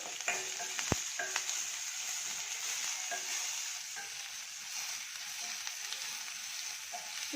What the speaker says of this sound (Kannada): ಈ ಈರುಳ್ಳಿ ಚೆನ್ನಾಗಿ ಬ್ರೌನ್ ಬರುವಾಗೆ ಚೆನ್ನಾಗಿ ಕರಿಬೇಕು